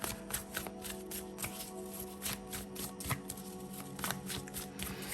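Steampunk Tarot cards being shuffled by hand, a repeated riffle of soft papery flutters and taps, close and fairly quiet, with no talking.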